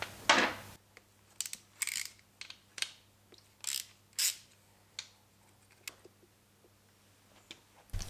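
Ratchet clicking while removing an engine idle control valve from a BMW S54 engine, in short bursts of ratcheting and clanks spaced over quiet, close and distinct.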